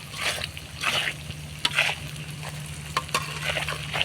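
Raw garden mango pickle stir-fried with salt in a pan, with no water added: a steady low sizzle under repeated scraping strokes of a spatula, close and moderately loud, with no talking.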